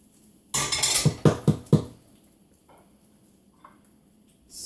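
Brussels sprouts scraped and knocked out of a hot pan: a burst of metallic clatter and scraping followed by three or four sharp utensil strikes against the pan, then near quiet with faint small clinks.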